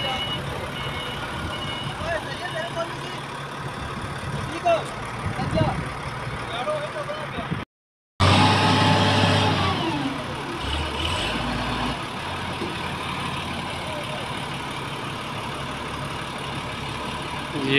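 A loaded truck, carrying two large reels, idles with a steady low engine drone that cuts out briefly midway and then resumes, while people talk over it throughout.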